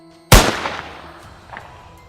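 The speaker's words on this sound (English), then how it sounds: "One clean shot ends its run." A single sharp gunshot fired during a wild boar hunt in the forest, loud and sudden, with a decaying echo trailing off and a faint distant crack afterwards.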